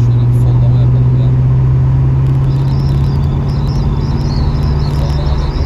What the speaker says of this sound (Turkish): Hadi şöyle bir sollama yapalım ya.